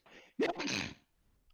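A single sharp sneeze, close and fairly loud, preceded by a short intake of breath, with a faint voice starting just after.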